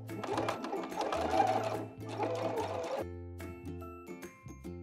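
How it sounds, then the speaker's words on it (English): A sewing machine edge stitches a sleeve placket, running in steady bursts of rapid needle strokes with brief stops between, close and fairly quiet. "So we're gonna line up the machine for our edge stitch."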